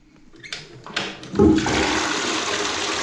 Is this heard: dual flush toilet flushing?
yes